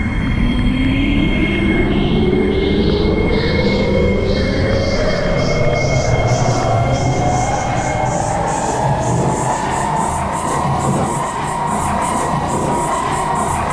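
A metro train on the Delta Line airport route pulls away from the Delta Expo station, its motor whine rising steadily in pitch over a constant rumble, with a high electronic tone and a faint chime pattern above.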